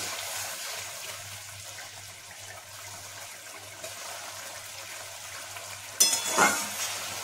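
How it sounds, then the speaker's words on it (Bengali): Fish curry gravy simmers and bubbles in a pan for a parshe fish dish, a steady soft hiss of boiling with no voices, and a brief louder clatter near the end. "দেখুন ঝোলটা ফুটছে।"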